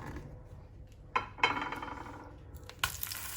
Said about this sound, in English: now we're gonna fry the tomatoes